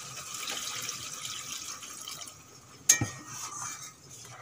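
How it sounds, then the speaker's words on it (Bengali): Water poured into a pan of fried spices for a duck curry, a soft steady hiss and splash that ends with a sharp metallic clank of utensil on pan, followed by quieter bubbling sizzle. "এখন দিয়ে দেব জল।"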